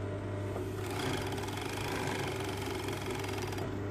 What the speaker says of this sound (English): we're going to now overlock this edge